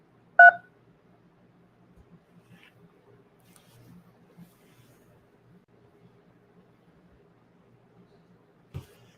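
Telephone keypad tones dial an extension on a business phone line: one sharp, loud tone burst near the start, then faint line hiss and a second brief tone near the end.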